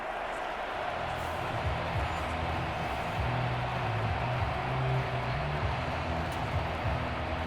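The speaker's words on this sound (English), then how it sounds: "this crowd's going to get even louder" Stadium crowd noise from a Madden football video game, a dense steady roar of many voices that holds loud and unbroken throughout.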